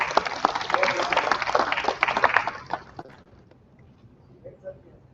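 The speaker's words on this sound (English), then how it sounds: "Let's give sir a big round of applause." Conference audience applauding a session chair: a burst of dense clapping for about three seconds that quickly fades to near silence, followed by faint room noise.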